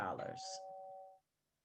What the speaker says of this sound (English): you probably heard my doorbell